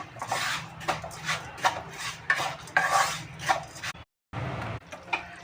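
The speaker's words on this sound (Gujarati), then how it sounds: "નાખીશું 2 ચમચી ઘી, આપણે નાખીશું 1 વાટકી ગોળ, બધું મિક્સ કરી લઈશું" A spoon scrapes and stirs ghee and jaggery in a pan in repeated rhythmic strokes, close and fairly quiet, with a brief silent gap near the end before stirring resumes.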